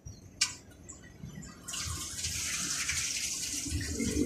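Tap water running steadily as vegetables are rinsed under it, a short clatter first, then a continuous close splashing stream with faint handling noises.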